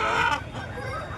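A rooster at a hen market in Bhadradri Kothagudem gives a short, fairly loud crowing call over a busy, noisy background.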